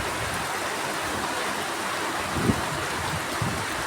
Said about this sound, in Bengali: সুবহানাল্লাহ, অনেক সুন্দর পানি, চারিদিকে একবারে একই সমান বৃষ্টি।